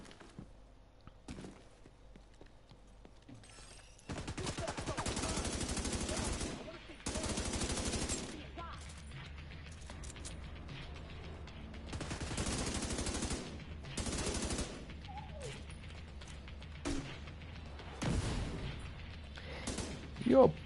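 Gunfire in The Division 2, rapid automatic bursts and repeated single shots in clusters over about twenty seconds, moderately loud with gaps between volleys.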